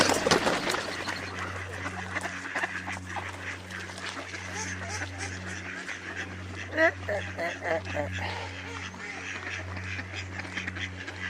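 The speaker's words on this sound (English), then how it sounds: "The ducks are saying Merry Christmas too." Several ducks quacking in bursts nearby, with a steady low hum in the background and some faint voices.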